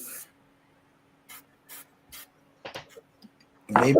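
Black paint sprayed in short bursts from a can: a brief hiss at the start, then three quick separate puffs, a couple of rattling handling noises and a louder final spray, all close with quiet gaps.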